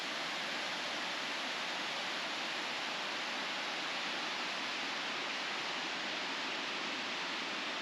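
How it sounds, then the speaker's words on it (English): A waterfall rushes in a steady, broad hiss at a scenic spot near a bridge, continuous and even with no voices. "We got the waterfall right here."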